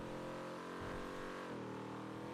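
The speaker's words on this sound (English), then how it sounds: "It's still weird hearing the engine noise because I'm so used to playing with no sound." A car engine drones in the RedlineRP roleplay video game, faint but steady, with the pitch dipping and shifting slightly as it runs. No one speaks.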